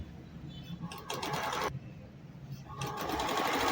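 A sewing machine stitches a straight seam around the curve of a sleeve cuff in short whirring runs, stopping and restarting with brief gaps, close and moderately loud.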